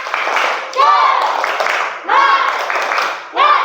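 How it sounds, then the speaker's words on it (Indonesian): A classroom of students performs a rhythmic spirit clap, bursts of patterned clapping mixed with children's chanted voices rising and falling in three loud waves. "Oke, tepuk semangat."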